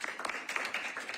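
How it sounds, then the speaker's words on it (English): A small group claps for presenters at a homelessness planning council meeting, a brief scattered round of applause heard faintly in a room. "I first want to just allow space for another round of applause"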